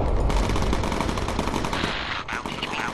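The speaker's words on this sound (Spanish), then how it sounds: "tú también, Gerardo, centra el fuego, todo el mundo aquí disparándole." Rapid machine gun fire from the bomber's turrets in the video game Bomber Crew, a dense, continuous burst of rattling shots that stays loud throughout with a faint voice briefly underneath.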